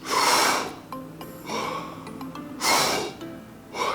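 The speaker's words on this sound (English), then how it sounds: "take in as deep of breath as you can without gyrating around and being forceful" Deep breaths in Wim Hof style breathing, loud airy inhalations rushing in twice with quieter pauses and small clicks between them.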